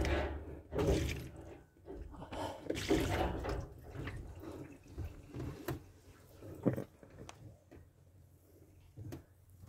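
Water splashes and pours over the rubber-sealed sunroof of a second-generation Mitsubishi Pajero during a leak test, coming in uneven close bursts with a few drips and knocks between them.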